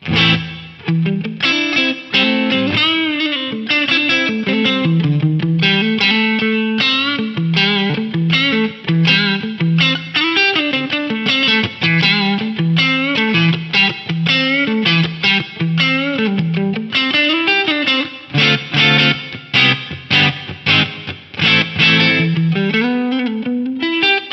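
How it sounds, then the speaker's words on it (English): A bright, processed instrumental line plays continuously through an Eventide Eclipse's Boston chamber reverb, a lush chamber-style wash that leaves each note ringing into the next. "there's some great sounding reverbs in here, like this Boston chamber"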